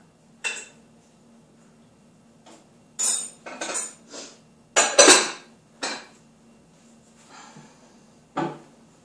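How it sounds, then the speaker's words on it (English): Beef stroganoff pieces are stirred in a microwave dish, with a series of close scraping and clinking utensil strokes against the dish, irregular bursts separated by quiet gaps. "Just give them a good stir."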